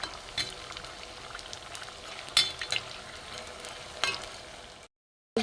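Rice flour snacks frying in hot oil give a steady close sizzle, with a few louder crackles and stirring clinks along the way before the sound cuts off near the end.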